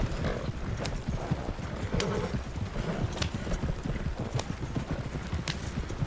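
Cart horse hooves clip-clop steadily at a fast, uneven gait in the Red Dead video game, joined by an occasional whinny over a continuous rumbling background.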